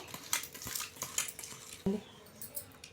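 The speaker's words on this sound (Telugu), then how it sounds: "ఇవన్నీ వేసుకొని ఒకసారి ఇలా కలుపుకోవాలి" A spoon mixes Ugadi pachadi with neem flowers in a bowl, making soft scraping and light clinks in an irregular rhythm, close and fairly quiet, with one sharper knock partway through.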